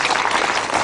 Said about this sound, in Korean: 여러분, 제가 드린 말씀에 동의하시면 박수를 좀 쳐주십시오.